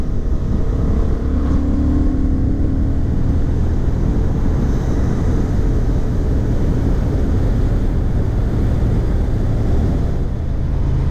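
A 2023 Honda Hornet 750 motorcycle cruises in sixth gear while overtaking on an open road, with a loud, steady engine drone mixed with heavy wind rush, continuous and close.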